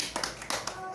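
A group of women in a family development training session claps a short rhythmic spirit clap, a few distinct grouped hand claps close by with faint room murmur.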